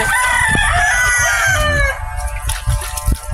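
A rooster crows loudly nearby in one long, wavering call, followed by lower clucking and rustling.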